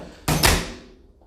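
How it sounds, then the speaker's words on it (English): A hotel room door at a downtown Miami hotel swings shut with a single solid thud, close and sharp, then a brief fading ring. "when you first walk in, close the door"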